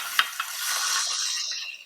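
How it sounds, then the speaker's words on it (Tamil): Green chilies and tomatoes sauté in hot oil, a soft continuous hiss with a couple of quick utensil taps near the start, fading out toward the end. "இந்த தக்காளியும் 1 நிமிஷத்துக்கு வதங்கட்டும்."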